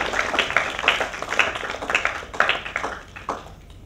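Small indoor gathering at an association's opening ceremony giving a short burst of applause, a handful of people clapping unevenly for a few seconds before it fades out.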